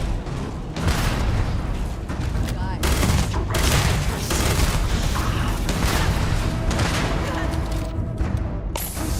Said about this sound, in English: those rockets are devastating